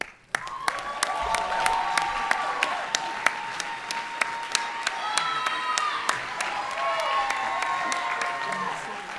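Audience applause at a school graduation ceremony for the Class of 2021, a sustained crowd clapping at moderate distance with sharp individual claps standing out, a faint voice and tonal hum underneath.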